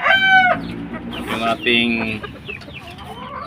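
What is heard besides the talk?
Cuban tiger hen clucking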